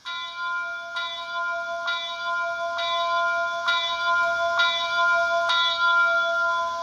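The sound-decoder bell of a Rapido Royal Hudson HO scale model steam locomotive clangs in an even rhythm, seven or so bright strikes about a second apart, clear and alone.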